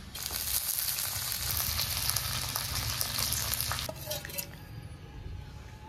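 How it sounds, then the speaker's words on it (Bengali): Green chillies and garlic cloves fry in a small amount of oil in a kadai, giving a steady close sizzle with a few light clinks and stirring near the end. "এখন এই কড়াইতে কাঁচা লঙ্কা রসুনের কোয়াগুলো দিয়ে রাখবো, অল্প আছে, আস্তে আস্তে ভাজা হতে থাকবে"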